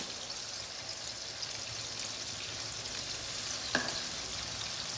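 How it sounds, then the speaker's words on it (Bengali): Ginger-chili paste fries with tomato in a pan, a soft, steady crackling sizzle at moderate distance with a few faint ticks and one brief clack of a utensil toward the end. "আদা আর লঙ্কা বাটা কাঁচা গন্ধটা যাওয়া পর্যন্ত আমি এখানে কষতে থাকবো টমেটোর সঙ্গে"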